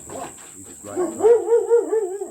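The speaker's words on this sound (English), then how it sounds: "Sorry about the dog." A dog barks and yelps nearby in a home setting, a quick run of rising, whining barks in the second half, after a man's brief spoken remark about a banjo player.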